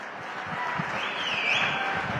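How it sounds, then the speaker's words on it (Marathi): A crowd at a BJP victory rally and gratitude event in Solapur gives a short, faint round of scattered clapping that heard from a distance holds steady for a couple of seconds. "एकदा देवेंद्र दादासाठी पण टाळ्या वाजवा एकदा."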